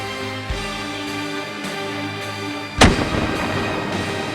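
A single loud rifle shot cracks close by during a roebuck hunt in Germany, its sharp report followed by a rolling echo against a steady hum of background ambience.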